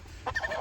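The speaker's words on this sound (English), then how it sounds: "If the bird's freaking out, just wait a second and let it calm down before you put it in there." A chicken being handled for processing gives a short burst of agitated squawks and clucks, close and fairly loud, over low background hum.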